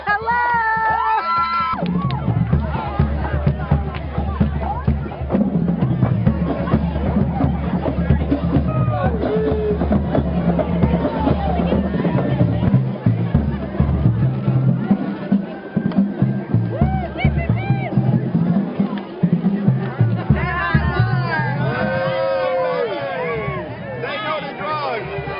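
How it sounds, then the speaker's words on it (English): A large outdoor crowd at a sunny community museum event, a steady loud hubbub of many voices with shouts and children's cries throughout, and a nearer announcer speaking over it. "Look at this great crowd."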